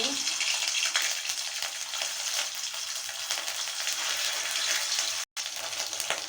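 Ginger paste dropped into hot oil in a wok after fish frying produces a steady, moderately loud sizzle and hiss, interrupted once by a brief silence near the end.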